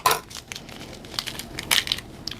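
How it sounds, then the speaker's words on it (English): A corned beef seasoning packet is cut open with a few short, crisp crinkling and crunching bursts of plastic, close and fairly quiet, with no talking. "we're going to take our seasoning packet that comes with the corned beef, and I'm just going to cut it open"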